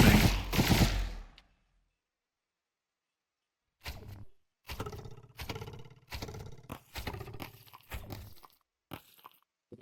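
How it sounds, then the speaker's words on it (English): A multi-gun in the video game Resonite's Battle Lines fires with a temporary placeholder effect. After an opening burst and a long silence, a string of short, punchy volleys follows in quick, uneven succession, close and loud. "what Aegis is using is the multi-gun, what we're calling it for now."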